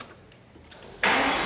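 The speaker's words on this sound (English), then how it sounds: "So can you please start up the car for us?" An Aston Martin V12 Speedster engine starts after a quiet pause, its ignition bursting into a loud, steady roar close by.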